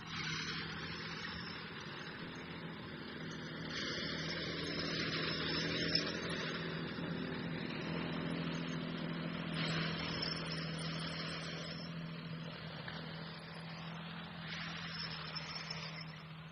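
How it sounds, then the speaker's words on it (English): A Comet tank's Rolls-Royce Meteor engine runs steadily from the rear of the vehicle, a continuous deep rumble with a strong low hum that swells and eases slightly, no speech over it. "Now the engine in the back of that vehicle that's making that glorious noise is of course the Rolls-Royce Meteor."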